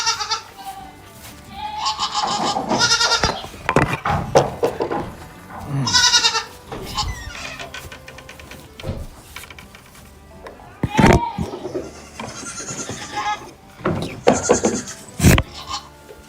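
Goats bleat repeatedly on a farm, a series of wavering, nasal calls rising and falling close by, with gaps of quieter background rustle and a few sharp knocks between cries.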